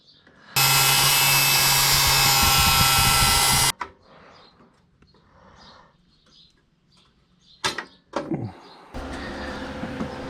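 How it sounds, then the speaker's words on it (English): A power grinder runs loud and steady for about three seconds on a welded car kick panel, then stops, and a voice talks. Short bursts of grinding and metal clatter follow, with another grinder burst at the end. "now I got to grind this down a little bit because you can see it's preventing it from fitting all the way up"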